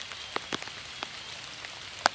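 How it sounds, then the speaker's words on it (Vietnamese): Rain falls at night outdoors during rat trapping in the countryside: a faint, steady hiss with a few sharper drop taps, the loudest near the end. "Trời mưa quá các bạn ơi"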